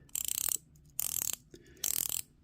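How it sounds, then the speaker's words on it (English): Three quick bursts of rapid, fine ratcheting clicks from an Accurist diver's watch 120-click bezel, close and crisp, separated by short pauses. "Nice sounding clicks"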